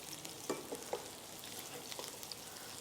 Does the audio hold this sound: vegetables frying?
yes